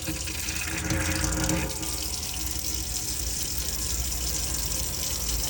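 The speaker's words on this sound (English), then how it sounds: "if you find that when you turn the tap on, like if I show you now, I might get a little bit of water coming through." Water runs steadily from a tap in a 2011 Dethleffs Esprit motorhome, a continuous close hiss and splash with a faint pump hum underneath.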